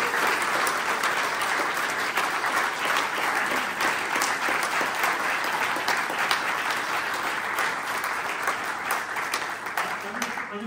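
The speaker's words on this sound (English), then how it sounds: "So massive round of applause for all four of us." Sustained audience applause after a student space society's online debate, a dense steady clatter of clapping hands with a few voices mixed in, holding at an even loudness throughout.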